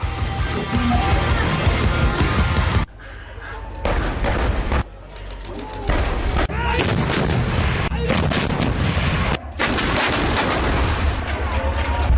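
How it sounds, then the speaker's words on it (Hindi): Indian artillery guns firing during an exercise at the School of Artillery in Devlali, Nashik: repeated heavy booms and blasts in quick succession, loud and continuous, with a few brief gaps. "अभ्यास में भारतीय तोपों ने अपनी मारक क्षमता का प्रदर्शन किया।"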